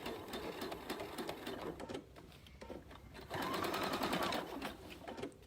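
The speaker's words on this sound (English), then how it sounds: "So I'm going to take a few stitches," A sewing machine stitches a seam on a pillow made from a placemat and sweatshirt, running in fast steady bursts with a short pause before a louder back-stitch run.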